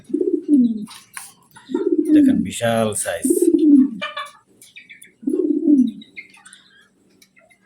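Large Modena pigeons coo close by in several deep, drawn-out rolls, with a person talking briefly between the calls.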